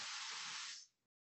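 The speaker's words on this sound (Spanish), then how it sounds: "Vamos a cambiar este efecto por un T PDF noise." Broadband TPDF noise generated with the sox synth effect, a steady, loud hiss lasting about a second before cutting off abruptly into silence.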